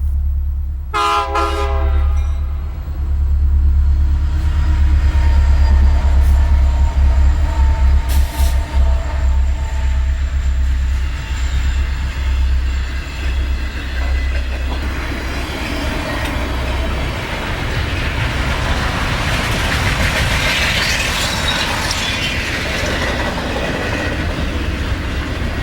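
Santa Fe westbound freight train 199 passes close by, opening with a sharp multi-tone horn blast over heavy diesel engine rumble, then a long steady roar of rolling freight cars with clattering wheels and occasional squeals, no talk.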